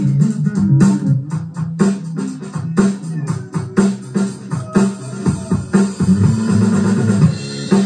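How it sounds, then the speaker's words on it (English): A live-recorded acoustic drum track plays on its own in a recording studio, loud and close: punchy kick and snare hits in a steady groove with cymbal wash over them. "that's the drums"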